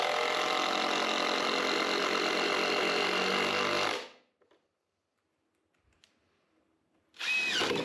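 A power drill drives screws into a wall panel in a craft room, with a loud steady whir for about four seconds, a near-silent pause, then a fresh burst of whirring at the end.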